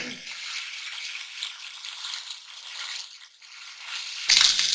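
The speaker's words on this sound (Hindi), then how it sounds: "तेल गर्म हो चुके हैं, इसके अंदर मैं सबसे पहले अदरक लहसुन डाल दूंगी" Ginger and garlic hit hot oil in a pan, bursting into a bright, steady sizzle that holds for several seconds, flaring louder near the end, with no talk over it.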